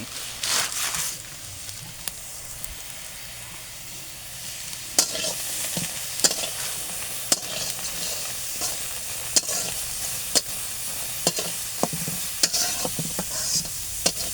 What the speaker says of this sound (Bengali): আমিও একটু হালকা পাতলা নেড়ে চেড়ে দিচ্ছি